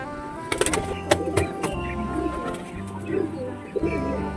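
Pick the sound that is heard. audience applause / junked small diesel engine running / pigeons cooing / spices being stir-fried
pigeons cooing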